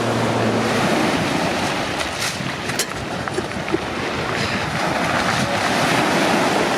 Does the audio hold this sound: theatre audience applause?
no